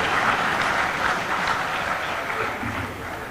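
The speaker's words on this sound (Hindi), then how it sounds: "अब ताली बजाओ जोरदार आप लोग।" An audience of doctors at a meeting in Rajasthan keeps clapping in a thick, continuous wash of many hands that eases slightly toward the end, with no voices over it.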